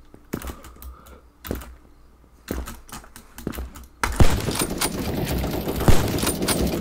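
Rapid gunshots from the browser shooter Krunker, a BO3 Locus sniper rifle among them, fire in sharp separate cracks, then give way to a denser, louder stretch of continuous firing and noise.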